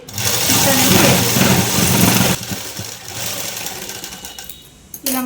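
A sewing machine stitches a folded dress hem in a loud, steady run for about two seconds, then stops, leaving quieter handling sounds and brief clicks.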